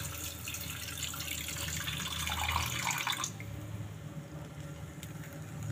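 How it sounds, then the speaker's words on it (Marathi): Slightly warm water is poured into coconut in a pot while making a traditional Brahmin-style rasam. A soft, steady splashing stream runs for about three seconds and then stops, leaving a faint room hush. "मी ह्याच्यात पाणी घालते आता, गरम पाणी."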